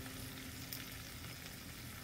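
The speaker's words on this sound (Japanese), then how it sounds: "皮の方を下にしたり、身の方を下にしたりしながら焼いていって、全体に火が通ったなと思ったら" Horse mackerel fillets pan-frying skin side and flesh side down, a loud continuous sizzle and crackle with no voices.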